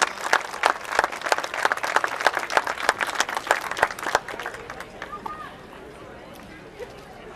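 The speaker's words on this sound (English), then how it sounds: "So give him a round of applause" A crowd at a baseball opening-season ceremony claps for a sportsmanship award winner, sharp, fairly close claps for about four seconds, then tapering off into quieter scattered claps as a voice speaks.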